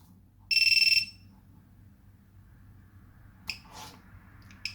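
A HellGate FPV drone buzzer that won't disarm sounds a loud, rapid burst of high electronic beeps for about half a second, followed by quiet background hum and a couple of faint clicks.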